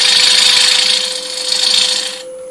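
A woodturning gouge cuts away waste wood from an eccentric piece spinning on a lathe, making a loud, continuous hissing scrape over a steady motor hum. The sound stops abruptly near the end.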